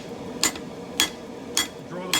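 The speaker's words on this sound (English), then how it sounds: "I'm going to go at it with the straight peen hammer" A straight peen hammer strikes hot steel while forging a spike tomahawk from an old ball peen hammer, giving four ringing metallic blows at a slow, even pace over a low background hum.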